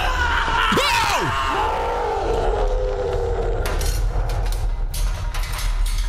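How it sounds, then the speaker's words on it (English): Distant screams and moaning cries in the horror video game The Cursed Tape, with a rising and falling wail early on over a loud droning, rumbling background, followed by scattered knocks and bangs. "we keep hearing screams and moans and all kinds of no"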